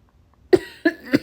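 A woman coughs three times in quick succession, each a short, sharp burst close up, after a brief moment of near silence.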